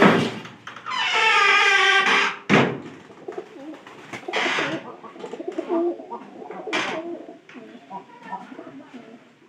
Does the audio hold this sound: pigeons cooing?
yes